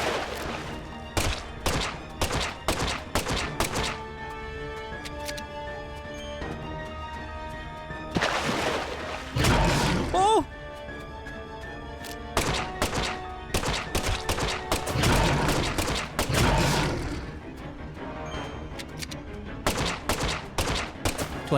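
Sustained gunfire in the game Deadly Premonition 2: rapid, loud bursts of shots with ringing metallic tones, brief lulls, then more volleys and crashing impacts across the whole stretch.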